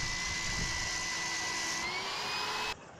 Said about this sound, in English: When creating the bevel, I found it best to use 2 hands on the sander to keep it as straight and as smooth a bevel as possible.